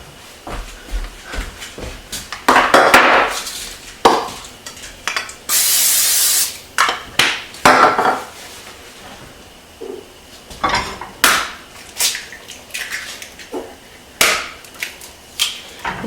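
Two strips of turkey bacon hit a hot pan in a home kitchen, giving a loud hiss and spatter, with clattering utensils and pan knocks scattered around it.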